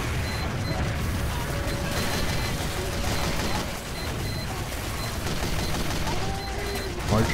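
Gunfire and sniper shots in the Team Fortress 2 video game, rapid bursts of shooting and mechanical clatter in a busy, dense mix with faint voices beneath.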